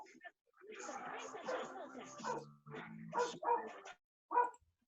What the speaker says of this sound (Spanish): se escucha a mi perrita, ya, pues, está ladrando.